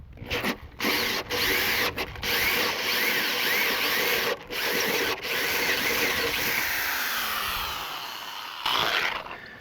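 A power drill with a hole saw cuts through bamboo while framing a roof, a loud continuous whirring grind with brief stops and restarts before the motor winds down near the end.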